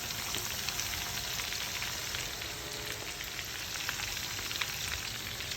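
Marinated chicken drumsticks frying in a pan give a steady, dense sizzle with fine crackling throughout, close and even, with no talking.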